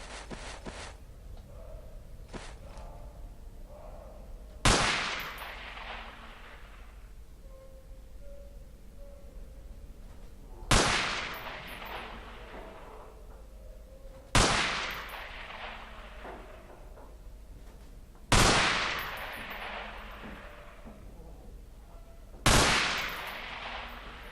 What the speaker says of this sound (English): Let's get to the submachine guns now. Pick up that MP5.